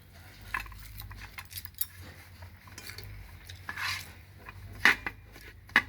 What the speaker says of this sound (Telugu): ఇవ్వండి రైస్ అంతా కలిపేసుకున్నాను అనమాట